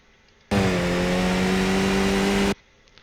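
A Skip Barber race car engine in iRacing at Brands Hatch, loud and close, revving hard in a sustained rising drone through second gear and upward, starting and stopping abruptly.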